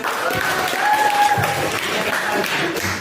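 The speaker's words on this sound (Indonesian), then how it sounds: "tepuk tangan buat" Steady applause from an audience gathered at a university session, dense continuous clapping filling the room throughout, loud and close, with faint voices mixed in.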